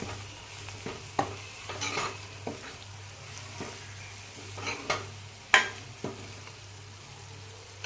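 Chopped vegetables and red chili spice stirred and sautéed in a hot pan for pav bhaji: a steady low sizzle runs throughout, with scraping spoon strokes and a few sharp clinks against the pan.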